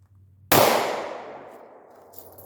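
A single handgun shot fired one-handed while testing whether the pistol cycles, with an out-of-spec barrel chamber causing extraction problems; one sharp, loud crack rings out and decays over about a second, followed by a faint metallic click.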